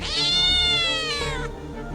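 A cat meows in the video game A Space for the Unbound, one long, loud, drawn-out wail with a falling pitch that ends in a short tail, heard alone with no speech.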